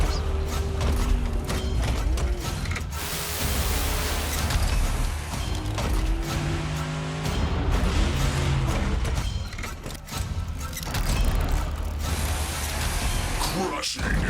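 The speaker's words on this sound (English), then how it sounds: "let's look at what Bigfoot does best: crush cars" A Bigfoot monster truck crushes cars at a live monster truck show, producing continuous loud crunching metal, creaks and grinding engine roar, with bursts of smashing and a brief dip before the noise surges again.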